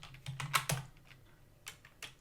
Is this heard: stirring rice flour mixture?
no